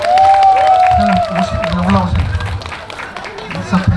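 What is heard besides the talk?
audience applause welcoming the host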